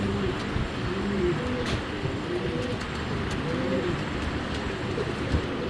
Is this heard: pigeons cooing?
yes